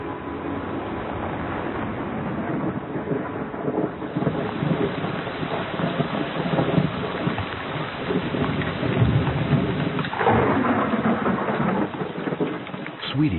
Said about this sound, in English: It's the start of the 4-month-long southwest monsoon.